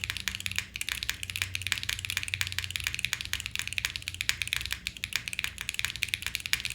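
Fast, steady clicking and clacking of keys on a Luminkey65 mechanical keyboard fitted with standard switches, typed continuously at close range with no talking.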